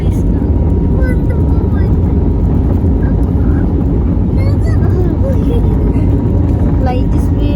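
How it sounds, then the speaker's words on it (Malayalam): A loud, continuous low engine roar fills an airplane cabin during takeoff, with people talking over it throughout. "flight പൊന്തുണ്ട് guys"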